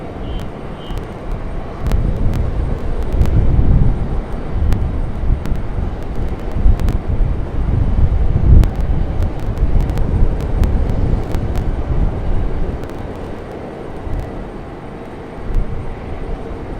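A Frontier airliner departs Raleigh Durham International Airport as a broad jet roar builds and lingers at a distance, mixed with gusty wind buffeting the microphone and no talking.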